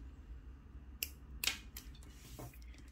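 Scissors snip through excess thread during a step-by-step pearl bow craft, giving a few sharp, brief clicks spaced apart over a quiet background.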